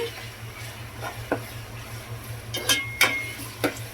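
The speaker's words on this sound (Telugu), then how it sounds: "అల్లం వెల్లుల్లి పేస్ట్ అయితే యాడ్ చేసుకుందాము ముందుగా చక్కగా ఇది పచ్చివాసన పోయేంత వరకు చక్కగా దీంట్లో వేయించుకుందామండి" Ginger garlic paste fries in a pan for a fish curry, giving a steady low sizzle broken by a few sharp clicks and scrapes from stirring, with no one talking.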